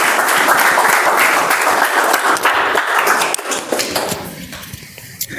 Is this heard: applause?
yes